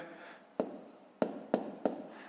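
Numbers written by hand, likely with pen on paper, for a 5th-grade multiplication exercise: four sharp, close taps and scratches spaced unevenly over a quiet background.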